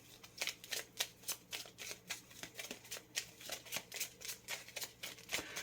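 Petit Lenormand oracle cards being shuffled and handled, a steady run of crisp riffling bursts repeating about twice a second, close and fairly quiet with no talking.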